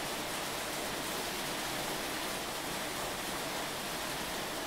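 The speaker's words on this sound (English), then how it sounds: "I will literally show you a clip right now of how hard the rain and hail were going on" Heavy rain mixed with hail pours down in a dense, steady roar, loud and unbroken throughout with no voices.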